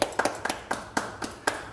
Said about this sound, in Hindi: ताली बजा दो यार